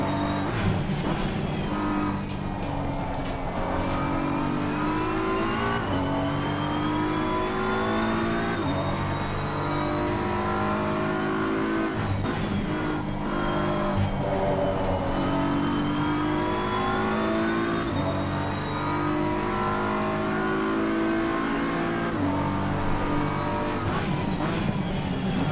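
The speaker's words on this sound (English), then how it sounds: "The car is exiting the pits" A BMW M4 race car in Assetto Corsa Competizione revs hard as it leaves the pits at Zolder, with a loud, steady engine drone that climbs and drops through repeated gear changes and never lets up.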